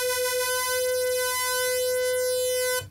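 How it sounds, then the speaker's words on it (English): Moog Rogue synthesizer with both oscillators on at the same octave, a steady sustained tone with bright stacked harmonics held for about three seconds, loud and alone before cutting off abruptly. "now I'll put both oscillators on. That lovely tuning sound."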